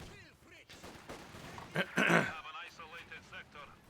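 Dushka heavy machine guns firing in the war strategy game Company of Heroes 2, a short burst of rattling shots heard under a commentator's steady talk.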